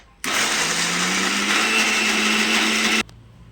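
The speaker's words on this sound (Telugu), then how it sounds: "ధనియాలు జీలకర్ర ఉప్పు వేసి మిక్సీ పట్టుకున్నాం" A mixer grinder whirs loudly and steadily for about three seconds, grinding fresh corn kernels into a paste, starting and stopping abruptly, with no voices.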